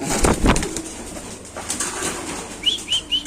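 Pigeons at a large pigeon farm: a burst of flapping wings up close, then soft, repeated low coos toward the end.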